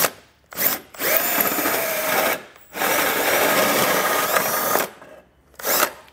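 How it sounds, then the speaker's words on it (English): A hole saw bores through a base plate part on a 2022 Jeep, whining in three loud bursts of cutting separated by short pauses, then a brief final spin, close up with no talk. "we need to take a hole saw and create a hole"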